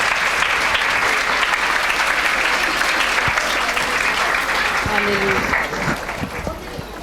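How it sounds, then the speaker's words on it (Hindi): An audience at a Good Friday church meeting claps steadily and loudly, dense applause that fades slightly toward the end as a voice begins. "आपकी तालियों में मैं दाइम आशर को दावत दूंगी कि वो सामने आए"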